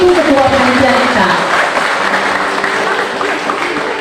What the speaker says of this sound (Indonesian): Mari sekali lagi kita berikan aplaus yang mulia untuk Ibu Ketua Panitia kita.